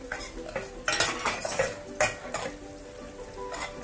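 Cooked onions being stirred with cumin, coriander and fennel seeds for a corn bhaji: repeated clattering scrapes of a metal spoon against the pan over a soft sizzle, close and fairly loud, with no voices.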